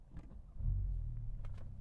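Inside a Porsche 911 Turbo, the engine restarts after auto start-stop at a light: a quiet cabin, then a sudden low rumble that swells and settles into a steady idle.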